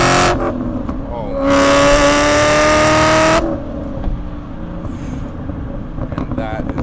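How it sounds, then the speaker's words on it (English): A supercharged 2011 Ford Mustang GT accelerates hard, the engine note and a rising supercharger whine climbing loudly for about two seconds before the throttle lifts and the sound falls back to a lower drone. "You really hear that supercharger start to whine up there, up in the power figures"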